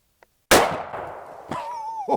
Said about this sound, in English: it's got a very similar barrel length and is shooting 8mm Mauser